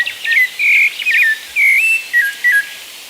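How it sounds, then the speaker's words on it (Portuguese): Rufous-bellied thrush song rings out in the Serra da Canastra mountains: clear, whistled phrases repeat several times in a steady rhythm over a faint background buzz of insects. "O canto do sabiá laranjeira ecoa pelas encostas de Mata Atlântica que ainda vestem estas montanhas"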